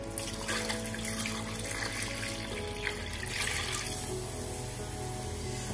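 Water streams from a tap over wheat wrapped in cloth in a kitchen, a steady splashing pour with a thin running texture, moderately quiet throughout.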